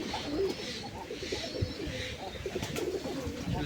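Pigeons coo in low, repeated throaty calls, close by, over a soft steady background.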